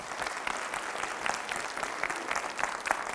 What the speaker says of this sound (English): Round of applause for these four.